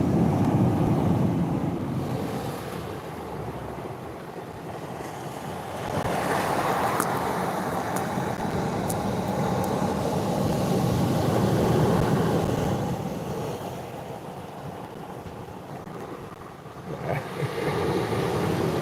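Out on open water, wind buffets the microphone in a steady broadband roar while waves wash and surge, the rushing swelling and easing over the span with no voices.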